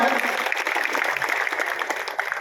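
Audience clapping at a Shiv Sena campaign office event in Gangapur village, a steady dense patter of many hands close by, continuous for the whole stretch with no talk over it.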